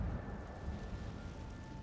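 Incendio fire spell cast in Hogwarts Legacy, a steady rumbling roar of flame that holds at an even loudness throughout, with no voices.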